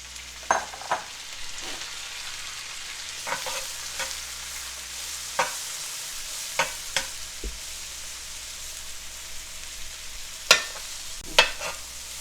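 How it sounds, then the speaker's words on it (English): About a pound of pre-sliced mushrooms fries in a pan for Salisbury steak gravy, a soft steady sizzle under repeated sharp scraping taps of a utensil stirring against the pan, with no talking. "go ahead and add in our mushrooms"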